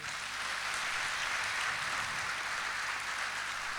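Concert audience claps in applause, a dense, steady wash of many hands at even loudness throughout, with no talk.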